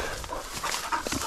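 A hunting dog on a wild quail hunt gives a few short whines and yelps close by, set against rustling and outdoor noise.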